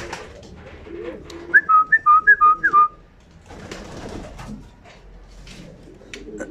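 A pair of pigeons in a loft calls outdoors in the evening, a short burst of several clear whistled coos in quick succession, near and fairly loud, with quiet background noise before and after.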